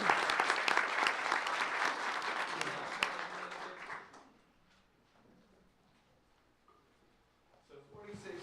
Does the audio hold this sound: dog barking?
no